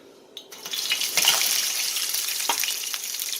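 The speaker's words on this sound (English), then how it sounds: "So we've just got to get these in the oil and fry them up on both sides" Crab cakes going into hot oil in a pan, a soft thump, then a steady broadband sizzle that rises and holds, fairly close, with no talking.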